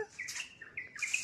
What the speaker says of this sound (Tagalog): Ang daming huni ng ibon guys.